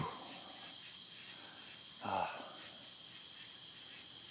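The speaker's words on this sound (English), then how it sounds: "Leave y'all with some tree frogs, cicadas." Tree frogs and cicadas keep up a steady, faint buzzing chorus on a Central Texas summer night, with one brief louder croak standing out partway through.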